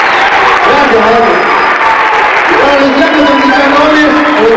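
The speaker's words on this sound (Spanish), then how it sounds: "Vamos a pedir un fuerte aplauso para los chicos que han debutado." A theater audience applauds loudly at a live concert for young performers making their debut. The clapping is thick and continuous while a voice talks and sings over the noise throughout.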